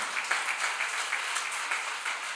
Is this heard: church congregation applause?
yes